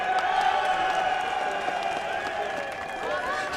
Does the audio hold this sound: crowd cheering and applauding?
yes